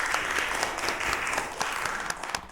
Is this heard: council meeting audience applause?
yes